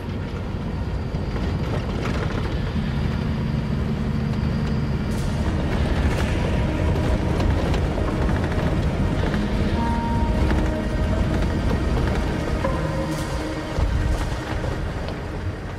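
A vehicle drives across the unstable ground of the dry salt lake at Dallol, with a steady, loud rumble of engine and tyres running throughout and occasional knocks and rattles from the body.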